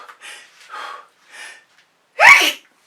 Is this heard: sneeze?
yes